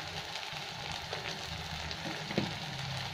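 Masala with cumin and coriander powder frying in a pan for a potato and cauliflower curry, a soft steady sizzle with faint occasional stirring scrapes, quiet and close with no talking.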